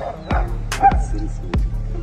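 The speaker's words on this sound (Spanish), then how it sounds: "el perro le lanza un par de mordiscos como advirtiéndole que la cosa va en serio." A pet dog barks at a large wild bear near a forest, three or four sharp, close barks spaced apart with a short yip between them.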